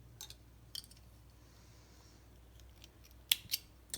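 Scissors snip through crochet yarn in a few short, close clicks near the end, following a quiet stretch with faint handling noises.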